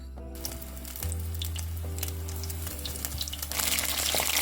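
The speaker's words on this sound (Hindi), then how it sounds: "चलिए अब इसे फ्राई करते हैं।" Mushrooms sizzling as they fry in hot oil, a continuous crackling hiss that swells louder toward the end, with a low steady hum of a kitchen appliance running underneath.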